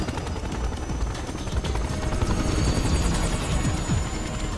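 Helicopter in the video game Resident Evil 6, its rotor chop and engine whine running steadily and loudly throughout with no talk.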